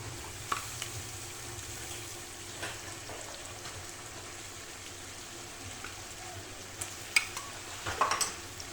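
Steady sizzling from a pan of chicken frying with ginger garlic paste, with occasional stirring scrapes and clinks, continuous and close, no talking over it.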